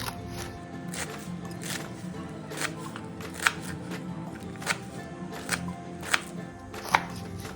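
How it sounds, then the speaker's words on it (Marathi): A knife chops fresh kardai (safflower) leaves finely on a board: a steady run of crisp, sharp cuts spaced under a second apart, close and moderately loud, with no talking. "आता आपण ही भाजी चिरून घेऊया"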